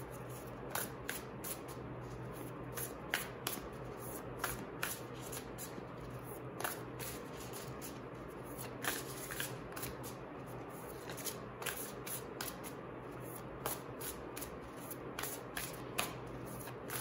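Oracle cards being shuffled continuously, a soft, steady riffling with regular faint snaps, close and quiet with no talking.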